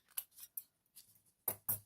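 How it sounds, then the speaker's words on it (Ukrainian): A series of crisp snips as scissors cut through paper, irregular bursts with a couple of louder, sharper cuts near the end. "Я беру, згинаю і ножицями розрізаю по цій лінії."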